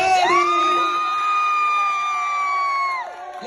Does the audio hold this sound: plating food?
no